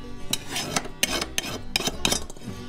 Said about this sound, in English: take the putty knife, scrape any buildup off the blades, because it will affect your balance